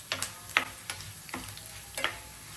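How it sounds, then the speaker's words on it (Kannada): Curry leaves and chana dal fry on a low flame as a spoon stirs them: a few sharp, close scraping clicks over a faint sizzle, heard without speech. "ಇವಾಗ ಕರ್ಬೇವಿನ ಸೊಪ್ಪು, ಕಡಲೆಬೇಳೆ 2 ಸ್ಪೂನಷ್ಟು ಫ್ರೈ ಮಾಡ್ಕೊಳ್ಳಿ."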